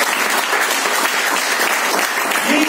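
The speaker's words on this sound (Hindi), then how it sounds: "एक बार जोरदार तालियां होनी चाहिए।" Loud, dense applause from an audience at an interview event, a thick continuous roar of many hands clapping at full strength for the whole moment, with faint voices blended into the noise.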